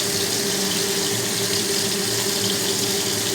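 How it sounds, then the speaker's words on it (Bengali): A kitchen tap runs steadily into a sink while something is being washed, a continuous close hiss of flowing water with no breaks. "প্রতিটা একটু জল দিয়ে ধুয়ে দিয়ে দিই।"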